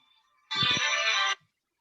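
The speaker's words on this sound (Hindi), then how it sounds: "एक मिनट, एक फोन आ गया जरा" A phone ringtone sounds for an incoming call, a loud, bright melodic burst lasting under a second against a quiet room, starting abruptly and cutting off cleanly.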